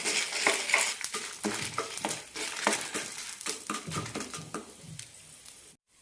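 Grated coconut and chili are sautéed in a pan in a rhythmic series of spatula scrapes and stirring strokes over a soft sizzle, close by, fading out near the end with no talk.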